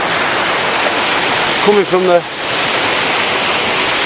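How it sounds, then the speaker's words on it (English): Waterfall at Crummock Water in the Lake District, a steady broadband roar of heavy falling water filling the whole clip, with someone speaking briefly over it partway through. "force of the waterfall."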